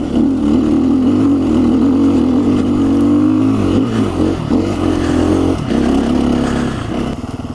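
KTM 350 dirt bike climbing a hill in a small riding area, its engine loud and close, holding a steady high drone with brief dips and surges as the throttle changes.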